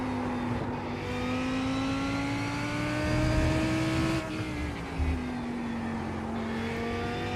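GT3 race car engine in the iRacing sim, a sustained tonal drone with rising and falling pitch as the car accelerates and lifts through corners, steady and fairly loud with no talk.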